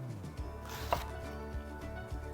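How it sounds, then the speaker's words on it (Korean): A knife thinly slicing eggplant on a cutting board makes soft, irregular taps close by over a low steady hum, with no voices. "가지는 이렇게 써는 소리도 참 예쁘죠?"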